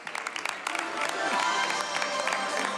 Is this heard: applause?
yes